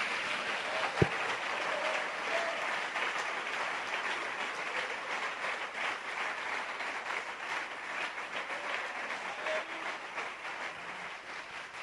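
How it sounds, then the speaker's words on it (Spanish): Church congregation applauding during a sermon, a sustained wash of clapping heard from some distance that stays fairly even throughout, with one sharp knock near the start. "Un aplauso fuerte para el Señor."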